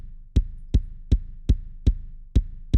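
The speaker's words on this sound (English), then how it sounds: "So the kick by itself just sounds like this." Solo kick drum in an Ableton film-score session, lightly processed with a transient shaper for a pumping feel, thumping about seven times at a steady pulse, punchy and close with nothing else playing.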